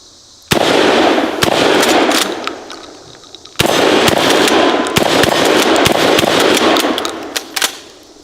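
Shotgun slugs fired at 2-liter bottles outdoors, two loud sharp blasts a few seconds apart, each followed by a long rolling echo and scattered crackling tail.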